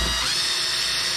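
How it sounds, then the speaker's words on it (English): A drilling machine bores a pilot hole through metal plates for a satellite dish patch feed, producing a loud, steady, high-pitched whine that holds without a break. "Hold down the plates, set the drill to through the hole and start the drilling machine."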